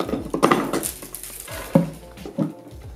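Pruning shears snip wicker strands beneath a finished round bread or fruit basket, giving a few distinct close clicks and crunches spaced irregularly over a couple of seconds.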